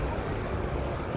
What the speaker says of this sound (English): there's an aeroplane that we can hear but not see goes over the